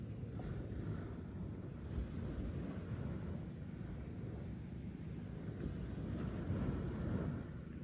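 Sea waves wash steadily in a continuous low roar mixed with wind buffeting the microphone, swelling slightly toward the end, with no one speaking.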